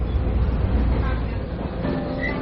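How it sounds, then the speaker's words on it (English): An old train runs on the Pingxi railway line in Taiwan, a loud, steady rumble and rattle heard from inside the carriage, with faint voices in the background. "I've hopped onto the old Pingxi railway line and to one of the older trains"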